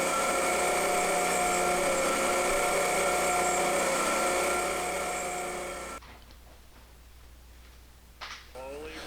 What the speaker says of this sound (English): Slowly turn the grinding wheel head down till it just barely starts to touch the flywheel.